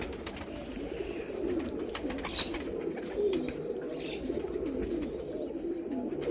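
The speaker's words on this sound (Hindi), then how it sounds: "ये मेरा सबसे स्पेशल कबूतर ये है।" A Saharanpuri pigeon coos in low, rolling, repeated calls close by, continuous throughout with a few faint higher chirps in the background.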